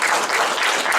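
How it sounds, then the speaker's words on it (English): Listeners at a guest speaker talk applaud a young man, a brief, dense round of clapping that stays loud and steady from start to finish with no voices. "And let's applaud the young man who made this happen."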